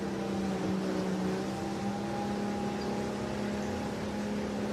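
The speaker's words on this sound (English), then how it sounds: "Hear the roar of our engines." Steady, continuous engine roar with a droning hum from motorboats following a 16ft and 13ft skiff sailing championship course, heard up close and unbroken with no talk.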